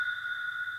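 A steady, ringing resonant noise from a FabFilter Pro-R 2 reverb turned all the way up: two sustained, whistling tones hold evenly for under a second with no talk.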